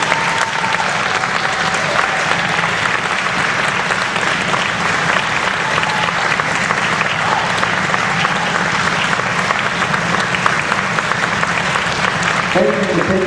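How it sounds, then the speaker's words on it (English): A sustained round of applause from a crowd at a military retirement ceremony for a lieutenant commander, dense and steady throughout, with voices heard faintly underneath. "Please join me in a final round of applause for Lieutenant Commander,"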